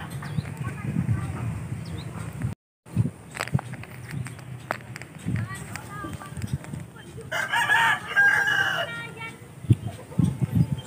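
A rooster crows once on a provincial farm where goats and sheep are also kept, the call rising above outdoor ambience and scattered footsteps while someone talks throughout.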